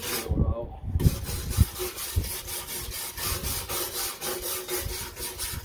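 Hand sanding of rust on a lawn mower with sandpaper, a steady scratchy rubbing that repeats in quick strokes, close and moderately loud, with a few heavier bumps near the start.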